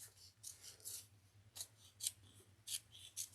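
Scissors trim the added side pieces of a woven willow tote bag, giving about eight crisp, close snips at an irregular, unhurried pace against a quiet background.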